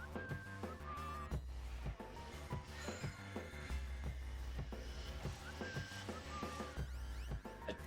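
Whistle-like synthesized tones play over a busy, rhythmic chiptune-style backing track in Phantasy Star Online, the melodic whistling recurring within the steady percussive game music.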